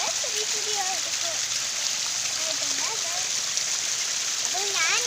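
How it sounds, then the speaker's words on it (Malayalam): A small waterfall in a rubber plantation splashes in a steady, close hiss of falling water, with birds chirping intermittently over it. "ഞാൻ ഇവിടെ നിന്ന് വെള്ളം വീഴുന്നുണ്ട്, ചെറിയ ചെറിയ ആയിട്ടുണ്ട്."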